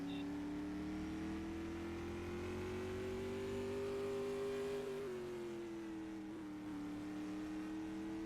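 A race car exits turn 4 toward the checkered flag in a qualifying run for the Jim Shampine Memorial, its engine holding a steady high drone that rises and then eases, fairly distant and continuous.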